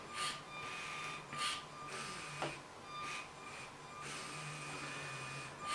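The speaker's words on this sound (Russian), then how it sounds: "И принтер начинает печатать, а по сути рисовать слово папа." A Lego Spike Prime printer drawing a word, giving off a steady mechanical whir with repeated bursts of motor buzzing and clicks at a close, even level, with no talk.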